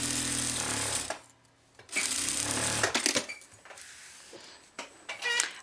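Sewing machine stitching a zipper onto a fabric manicure case, loud whirring runs of rapid stitching separated by quiet pauses, then short bursts with clicks and fabric handling near the end.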